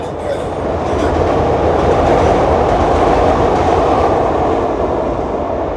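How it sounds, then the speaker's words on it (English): A train rushes past close by, a loud steady roar of wheels and rails with faint clacking throughout. "Train."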